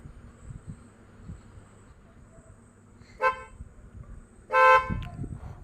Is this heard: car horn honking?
yes